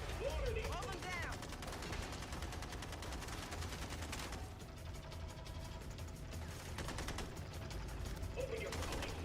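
Rapid bursts of gunfire from the video game MindsEye crackle densely and loudly in repeated volleys, with mechanical clatter mixed in and voices calling out over the shooting.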